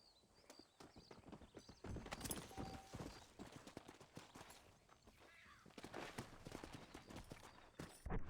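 A horse in the Western video game Red Dead Redemption clip-clops along at a steady walking rhythm, hooves thudding close and clear with a brief whinny-like tone, faint overall and without speech.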